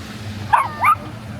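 A dog barks twice, a short yip followed by a second bark, fairly near over a steady low outdoor hum during a walk.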